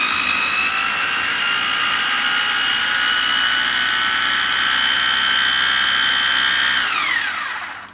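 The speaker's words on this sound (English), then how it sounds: "So we're going to whiz that up initially." A food processor whizzes garlic mayonnaise ingredients, including Worcester sauce, with a loud, continuous high-pitched motor whine for about seven seconds before spinning down and fading to silence.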